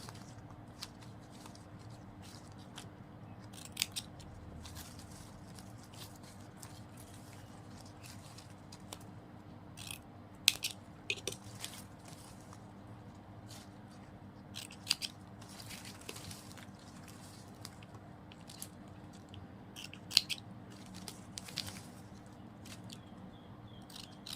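Scissors snip the uneven ends of ribbon, sparse sharp little clicks and cuts scattered over a long quiet stretch with a faint steady hum, close but soft.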